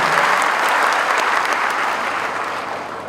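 Audience in a university lecture hall breaks into steady, dense applause that holds at an even level throughout, fading slightly toward the end.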